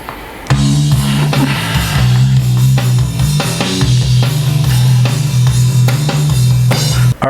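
A drum-programmed rock or metal track with recorded bass guitar plays as a steady full mix, with punchy drum hits over a thick sustained low end throughout and no voices.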